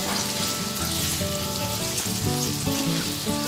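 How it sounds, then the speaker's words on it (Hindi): Ground spices roast in a pan while being stirred for methi matar malai, a steady sizzle running under background music. "तो मसालों को भी मैंने चलाते हुए भून लिया है।"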